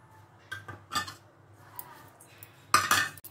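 A dry fruit mixture stirred in a pan with a spoon, giving scattered scraping strokes and metallic clinks, a sharp cluster of clatter near the end, with short quiet gaps between movements.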